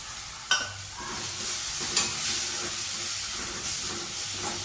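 Greens and ground coconut for ragi keerai adai sauté in a pan, a close, continuous sizzling hiss punctuated by a few sharp spatula strikes and steady stirring scrapes.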